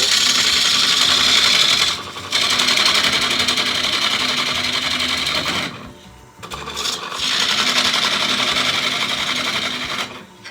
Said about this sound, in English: More speed. We're up to 750 now. We're going to go with a little bigger lathe, a little bigger tool.